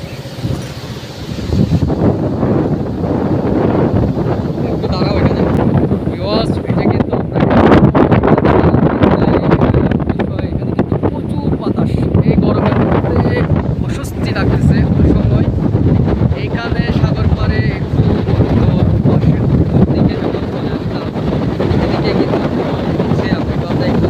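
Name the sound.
strong wind near the water by a trawler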